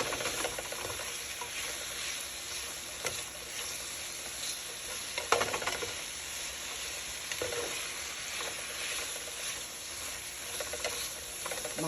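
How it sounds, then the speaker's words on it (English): Onions sizzle in a pan for a Korean spicy tofu soup, a dense, steady hiss that carries throughout, with a few faint scrapes and clicks from stirring. "I'm just going to let these onions cook for a little while until they are a little see-through"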